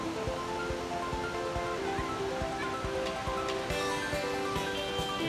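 Water flowing at Chet Sao Noi waterfall in Thailand, a steady broadband rush with faint splashes and murmurs from nearby, continuous and fairly close, with no talking.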